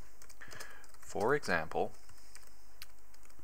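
Soft clicks of computer keyboard typing sit under someone talking, scattered light key taps at a steady background level.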